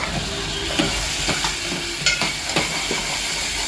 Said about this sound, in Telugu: ఉల్లిపాయలు అవన్నీ ఎర్రగా అయితే దీంట్లో ఆలు వేస్తున్నా, కట్ చేసిన ఆలు